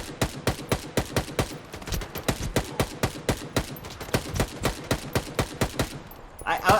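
Rapid bursts of gunfire from the shooter game Stalker 2, a steady rhythmic string of sharp, loud shots fired close together with little pause, continuing almost the whole time.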